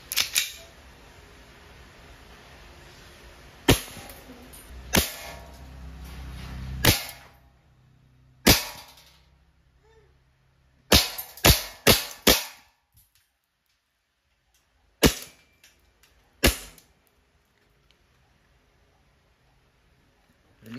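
Double Bell 728 1911 MEU full-metal gas blowback airsoft pistol firing: about a dozen sharp, loud cracks, some single and some in quick bursts of two or three, separated by quiet pauses.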